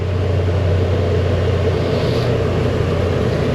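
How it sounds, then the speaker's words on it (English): Rear blower motor of a Kia running, giving a loud, steady whirring rumble with a low hum that holds constant and unbroken throughout. "Rear blower motor."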